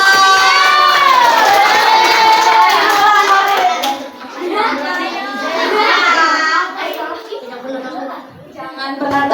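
Classroom of students at an anti-bullying campaign cheering and shouting together, many young voices overlapping loudly with some scattered hand clapping, the noise swelling then easing.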